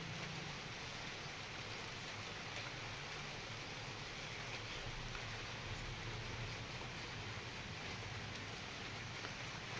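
Heavy morning rain falls in a steady, dense hiss that continues without a break and holds an even level throughout, with no voices.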